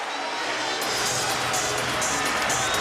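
Large basketball crowd of over 23,000 at BYU's Marriott Center during a game against Wake Forest, a steady roar of murmur and cheering that swells slightly partway through.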